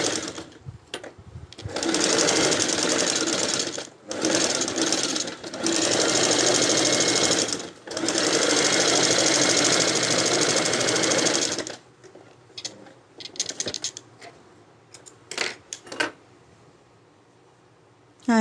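Close, loud whirring of a sewing machine stitching palazzo trousers in long continuous runs broken by short pauses, followed by quieter handling and faint clicks.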